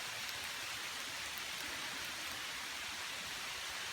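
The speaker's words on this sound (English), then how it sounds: "It is pouring rain." Heavy rain pours on a tent at a camping spot, a dense, even hiss of drops drumming steadily on the fabric, close and continuous with no talking.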